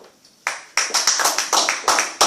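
Church congregation applauding Jesus: a sudden burst of sharp, steady hand clapping, fairly close, carrying on in a quick rhythm after a quiet start.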